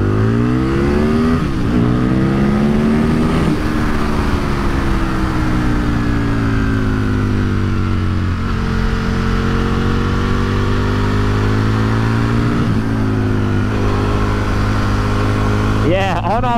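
Aprilia RSV Mille sport motorcycle, about twenty years old, accelerating hard through the gears, its loud engine note climbing, dropping at each shift and climbing again up close, with a voice talking over it.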